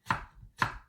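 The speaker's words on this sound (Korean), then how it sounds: "껍질 까지 않고 저는 요거를 좀 다져 줄게요." A kitchen knife chops through an unpeeled apple on a cutting board, two sharp, close, distinct thuds about half a second apart with no talking.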